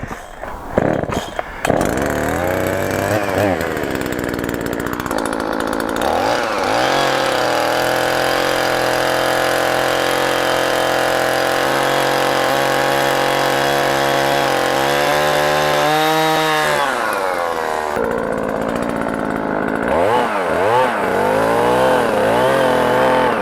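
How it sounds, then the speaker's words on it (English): A chainsaw runs continuously during the restoration of an old summer garden, close and loud, its engine pitch rising and falling as it revs, bogs under load and idles. "so they brought the chainsaw"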